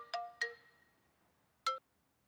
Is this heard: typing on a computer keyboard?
no